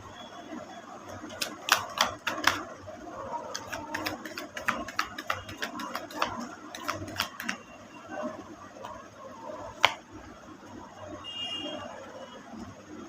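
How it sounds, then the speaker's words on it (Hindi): Playing cards are shuffled and sent flying: close, sharp bursts of rapid papery flicks and snaps come in irregular clusters over several seconds, with quieter gaps between them. "उड़ रहा है फ्लाइंग कार्ड्स।"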